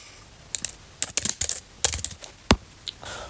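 Rapid bursts of clicky keystrokes on a malfunctioning computer keyboard, tapped in irregular clusters with short pauses and one sharp louder hit near the end, close and dry with no talking.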